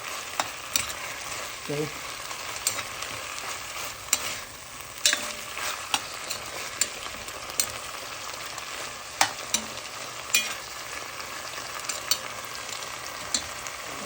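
Food frying in a pan for spicy pumpkin and spinach soup, a steady sizzle with frequent sharp stirring taps and scrapes; a brief spoken word occurs once.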